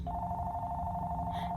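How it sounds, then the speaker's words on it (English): A telephone rings indoors with a steady, continuous electronic tone that holds unbroken throughout and sits over a low background hum, faint and somewhat distant. "I apologize for the phone ringing."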